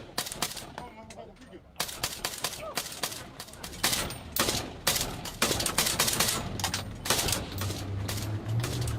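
Gunfire breaks out during a Kenyan police patrol in Haiti, with rapid bursts of shots close by and many sharp cracks in irregular volleys.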